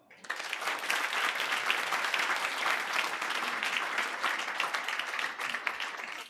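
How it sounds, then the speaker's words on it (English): Sustained audience applause at an accreditation celebration for a vaccine manufacturer, dense steady clapping from a sizeable crowd lasting several seconds, with no speech over it. "I think we can give you yet another round of applause."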